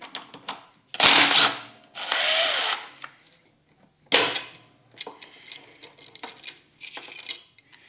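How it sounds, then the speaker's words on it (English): A power tool with a 12mm socket spins off the cam gear bolt on a Honda Dax 125 engine in short loud whirring bursts, separated by small metallic clicks and clinks of parts, close up. "So let's pop off this cam gear. This is a 12mm socket."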